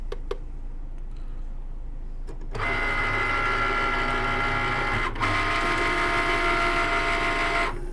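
A Cricut cutting machine runs rotary blade calibration, starting with a few clicks and then a steady mechanical whir with tonal motor hum that briefly dips and then resumes.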